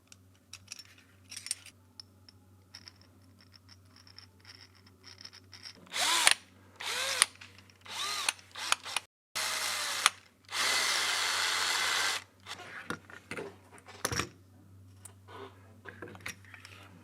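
A small screwdriver fitted with an angled head attachment drives a screw in short bursts of motor whine, separated by pauses, clicks and handling noises, heard up close.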